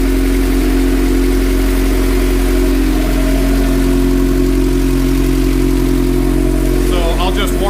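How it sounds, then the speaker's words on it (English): Honda Civic engine with a hacked GSR turbo setup idling steadily after a cold start, a loud, constant low drone with harmonic hum throughout, and a brief higher whine or rev near the end. "So I'll just warm up the engine"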